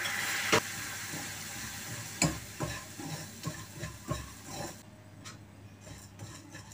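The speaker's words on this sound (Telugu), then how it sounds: "పంచదార పాకం సోంపుకి మొత్తం అతుక్కునే వరకు వేస్తూ ఉండాలి" Sugar syrup stirred into fennel seeds in a pan: a soft sizzling hiss with scattered scraping strokes of a spoon, fairly close and quiet, fading toward the end.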